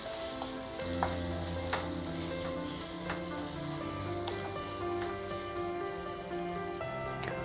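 A prawn pickle sizzles steadily in oil while asafoetida is stirred in, with a constant close frying hiss broken by regular scraping clicks of the spoon.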